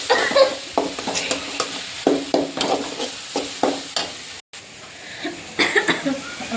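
Ginger garlic paste added to a hot pan for potato masala crackles with sizzling, while a spoon scrapes and stirs in repeated strokes and a person coughs nearby.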